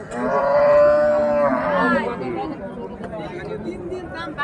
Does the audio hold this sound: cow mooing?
yes